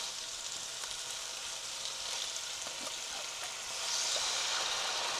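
Coconut milk sizzles steadily with red curry paste in a hot pan for a Thai red curry with haddock, a dense, close, continuous hiss that swells louder near the end, with no talking.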